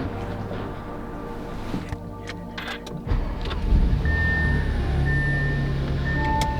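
2017 Audi A7 under rebuild starts up and is driven out of a garage, a low idle followed by a sharper engine rise and steady running, with a few clicks and tones nearby.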